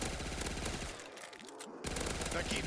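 Rapid automatic gunfire in a zombie video game, a dense rattling burst that cuts out briefly midway and then resumes just as loud.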